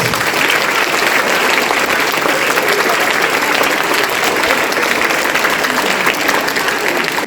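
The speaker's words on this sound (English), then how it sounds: "Give them a big round of applause." A large school audience applauds at an Indian Republic Day assembly, loud, dense and sustained clapping that holds at an even level throughout with no voices on top.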